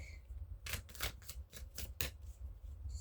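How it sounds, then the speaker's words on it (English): A tarot card deck gets a few quick shuffles, a short series of soft, riffling rustles and flicks, close and quiet. "Just do some quick shuffles."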